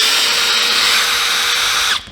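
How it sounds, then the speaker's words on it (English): A power drill runs steadily at close range, backing screws out of a vent, a loud continuous whine that cuts off abruptly near the end. "I'm going to go all the way around this vent, pull all those screws out"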